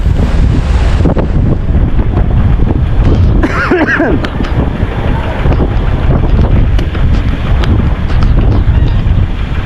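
Strong wind from Typhoon Paolo sweeps the coast at Dinahican, Infanta, Quezon, buffeting loudly and continuously in heavy gusts, with a brief sharper burst midway over the constant roar.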